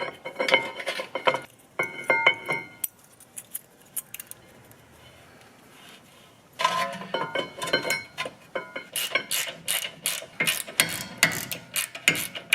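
Small metal clips being snapped into a rear brake caliper bracket on a Honda Accord, giving bursts of sharp metallic clicks and jangling rattles separated by a quieter stretch, close to the mic with no talk.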